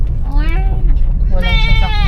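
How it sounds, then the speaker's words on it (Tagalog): Two wavering bleats ring out from a goat, one after the other, over a low background rumble and some nearby voices. "Oh, may kambing."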